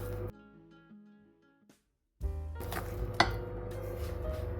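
Butter and caster sugar being creamed in a bowl, close clinking and scraping of a utensil against the bowl after a brief quiet gap, with a clear clink midway.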